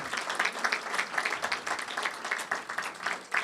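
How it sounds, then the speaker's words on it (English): Audience at a library fundraising gala giving a big round of applause, a dense continuous patter of many hands clapping at moderate volume from across the room. "A big round of applause to Nancy Bugby, who is chairman of this even"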